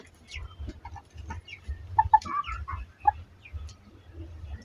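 Several farm chickens, including a hen recovering from illness, cluck and make soft short calls in irregular bursts while waiting to be fed, fairly close and quiet.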